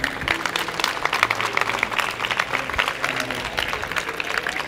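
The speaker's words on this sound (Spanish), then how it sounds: "Un aplauso de Seth y a André, por favor." A conference audience claps steadily, a dense wash of applause filling the room, with a few voices mixed in.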